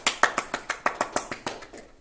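A small audience claps in unison, about a dozen sharp, evenly spaced claps in a quick steady rhythm that trail off, close by and with no speech.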